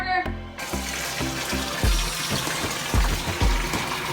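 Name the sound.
water filling a monitor lizard's pond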